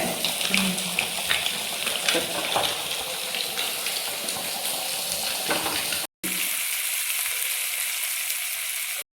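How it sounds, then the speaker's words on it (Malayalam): Fish frying in a pan in a home kitchen while a fish curry cooks nearby: a steady, dense sizzle with some stirring and faint voices in the background, and a short break in the sound near the end. "അപ്പുറം ഇതാ മീൻ പൊരിക്കാനും വെച്ചിട്ടുണ്ട്."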